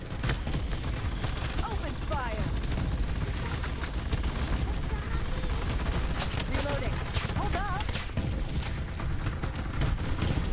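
Sustained, loud gunfire from the video game Bugfall rattles on without pause for the whole stretch, dense overlapping bursts like a fusillade, with brief warbling tones and a voice occasionally surfacing beneath the shooting.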